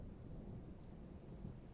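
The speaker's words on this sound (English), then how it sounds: "you see dark clouds coming in, swirling, the rain, some lightning." A tabletop-game thunderstorm effect: low, rumbling thunder blends with steady rain, a dense, muffled roar at moderate volume with no voices.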